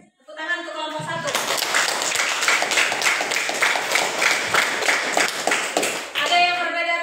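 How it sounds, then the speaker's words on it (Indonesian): Classroom students applaud a student group in a dense, sustained burst of hand clapping lasting several seconds. Voices are heard just before and right after. "tepuk tangan untuk kelompok 1."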